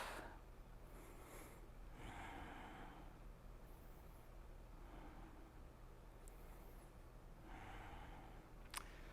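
Slow deep breathing during a lower-body and core exercise class, several long airy inhales and exhales in a steady rhythm, close and fairly quiet over a low background hum.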